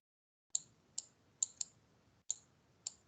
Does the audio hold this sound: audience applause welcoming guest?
no